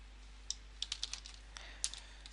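Code typed on a computer keyboard during a Selenium WebDriver setup, a quiet scattering of about ten light, uneven key clicks over a faint steady hum.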